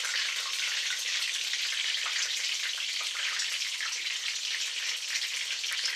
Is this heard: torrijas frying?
yes